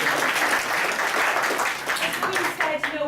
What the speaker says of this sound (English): I don't know if you want to give yourselves a round of applause